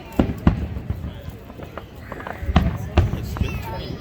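Fireworks burst at a 2022 Fourth of July display: a few sharp booms go off at irregular intervals, punching through a steady crowd murmur while people talk nearby.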